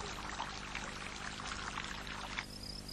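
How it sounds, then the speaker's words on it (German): Miró's fountain splashes among pine trees, a continuous bright pouring and trickling of water that stays steady and fairly soft with no one speaking. "Im Dickicht der Pinien plätschert Miros Brunnen."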